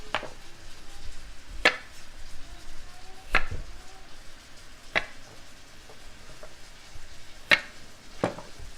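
A knife strikes a cutting board in sparse, sharp chops, about six spaced hits, as ingredients for Provence-style braised chicken are roughly chopped in a quiet kitchen.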